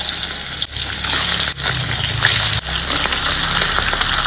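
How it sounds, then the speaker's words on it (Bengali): Fresh catla fish heads fry in hot oil, giving a loud, dense, continuous spattering hiss close by, briefly dipping at a few moments as the pieces are moved, with no voices. "আমি মাছের মাথাগুলো দিয়ে ভেজে নিচ্ছি"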